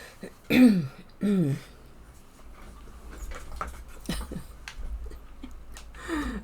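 Two distinct hacking coughs from a cat close by, followed by faint scattered noises and a softer rasping sound near the end.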